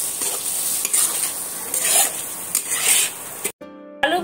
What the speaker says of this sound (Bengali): দিয়েও আবার একটু ভালো করে কষিয়ে নেব।